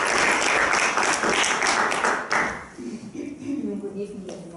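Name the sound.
audience applause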